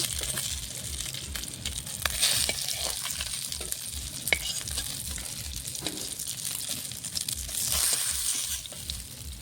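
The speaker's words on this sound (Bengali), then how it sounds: "মাছগুলো আমার ভাজা হয়ে গেছে, লাল লাল করে ভেজে নিয়েছি" Pieces of catla fish fry in hot oil for a Bengali fish curry, giving a steady close sizzle with stirring scrapes and crackles throughout, with no talking.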